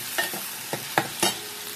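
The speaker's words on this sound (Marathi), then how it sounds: "त्या कांद्याला गाईस गुलाबी तर थोडासा फ्राय करून घेऊया कांद्याला छानपैकी." Chopped onions sizzle in hot oil while being stirred in a pan for a Maharashtrian ghaatiya bhaaji, with several distinct scraping stir strokes over a steady soft frying hiss.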